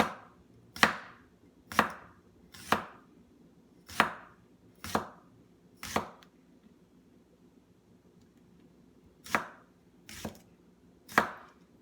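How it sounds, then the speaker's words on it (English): Pomfret fish being chopped into pieces with a cleaver on a board for a braised Chinese dish: ten sharp, evenly spaced chops close up, a pause in the middle, over a faint steady kitchen hum. "For this one, we're just cutting it into pieces."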